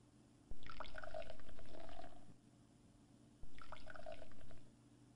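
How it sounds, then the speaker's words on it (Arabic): Liquid hydrochloric acid poured into a laboratory test tube in two short bursts, each a trickling, splashing pour lasting about two seconds with a quiet pause between, close and clear over low background hum. "نضع كمية من حامض الهيدروليك في أنبوب اختبار"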